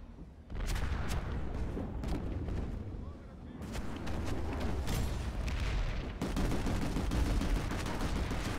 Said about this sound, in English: a fucking rocket just whizzed right over my cockpit